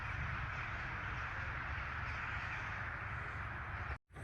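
A large flock of birds, likely crows, cawing from a distance as a steady, noisy wash of calls with no single call standing out, ending in a brief cut.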